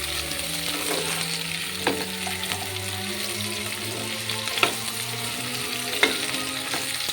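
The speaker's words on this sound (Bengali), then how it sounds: "সজনে ডাঁটা আর আলুর পিসগুলো দেওয়ার পরে এবারও আমি নাড়িয়ে নিচ্ছি।" Drumstick pieces and potato chunks fry in a pan under a continuous sizzle, with occasional clinks and scrapes as a spatula stirs them; a low hum runs beneath and no one speaks.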